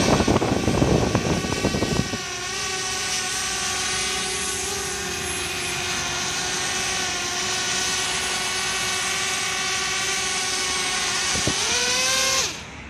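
A DJI Spark drone's motors hum steadily close by with a high, even whine after a short burst of louder noise, then cut off and wind down near the end.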